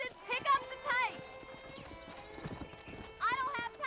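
A horse gallops in Red Dead Redemption with rapid, loud hoof beats and rising whinnies that break out several times. Voices call out over the animal.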